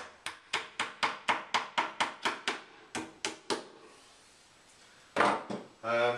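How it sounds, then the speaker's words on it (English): Rapid series of sharp hammer knocks driving wall plugs into a wall, about a dozen evenly spaced strikes, then a few more after a pause, followed by brief scraping handling noises. "Just knock them in with a hammer. Knock your plugs in."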